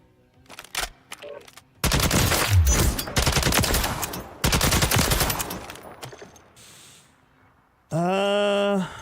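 Rapid automatic gunfire in Call of Duty: Warzone rattles out in two long, loud bursts with a few short shots before them, then a sustained electronic tone closes the stretch.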